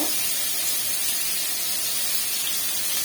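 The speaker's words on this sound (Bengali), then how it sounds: "ডাঁটা, শিম, আলু, পেঁপে সব ভেজে নিয়েছি। একটু ভেজে নিই" Drumstick, beans, potato and papaya frying in hot oil for a light rohu fish curry, giving a steady, loud, bright hiss and sizzle close by that never lets up, with no talking.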